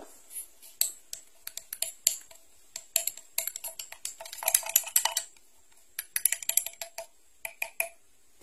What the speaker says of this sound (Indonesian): ini saya masukkan silikanya, kita aduk